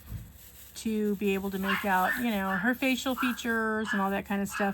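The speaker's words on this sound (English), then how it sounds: "Please excuse the dogs in the background losing their minds" Dogs bark and yelp in the background of a home while someone talks steadily over them, their short bursts mostly buried beneath her voice.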